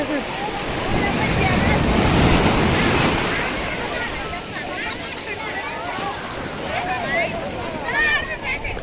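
Sea waves wash onto a village beach where boats are launched, making a loud, continuous surf roar with heavy wind noise on the microphone. Voices chatter faintly underneath.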